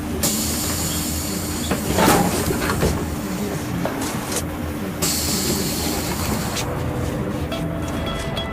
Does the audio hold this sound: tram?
yes